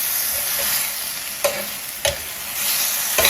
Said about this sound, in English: when it's on a low, what's happening is that shrimp is finishing cooking.